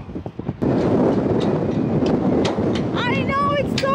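Strong wind roars and buffets the microphone almost continuously, loud and close, with a few voices and higher calls cutting through near the end.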